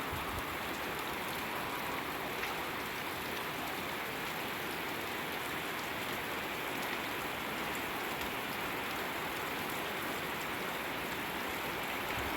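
Steady rain patters on a surface, an even, continuous hiss of falling drops with no voices.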